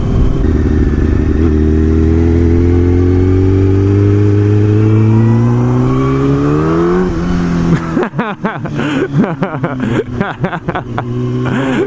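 A Honda CBR954RR motorcycle pulls hard, its engine rising steadily in pitch for several seconds before the gear changes, then rough, choppy revving mixed with wind buffeting from a stormy ride.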